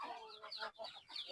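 Chickens with their young chicks cluck in a busy, overlapping stream of short calls, close and steady, with no talking over them.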